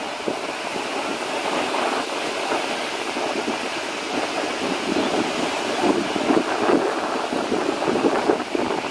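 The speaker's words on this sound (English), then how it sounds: "Wind is blowing, feels good." Wind gusts across Kailua Beach on Oahu's windward side, with a steady rushing roar over the microphone and surf washing underneath, swelling slightly toward the end, with no voices.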